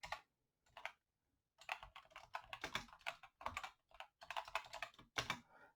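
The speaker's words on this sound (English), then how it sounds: "So if I was to type here" Fast bursts of typing on a computer keyboard at a homebrew 6502 computer's serial terminal, close and fairly quiet, with rapid clustered keystrokes broken by short pauses and no talking.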